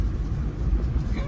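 A car driving along a road past rice fields, heard as a steady low rumble of engine and road noise from inside the vehicle, brief and continuous.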